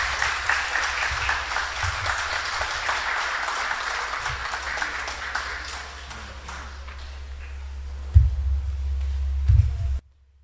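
Audience applauding after a lecture at a multidisciplinary seminar: steady dense clapping for several seconds that gradually thins and fades, with a few low thumps near the end before cutting to silence.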